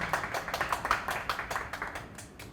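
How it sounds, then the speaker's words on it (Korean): Scattered clapping from a forum audience welcoming a speaker, a steady patter of hand claps that thins out toward the end. "한 번 더 박수 부탁드리겠습니다."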